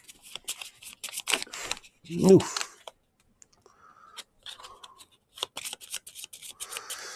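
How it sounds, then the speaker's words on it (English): A deck of playing cards shuffled during a solo tabletop game of Endless Winter, brief riffling bursts between short spoken remarks and an exclamation. "Let's shuffle those cards."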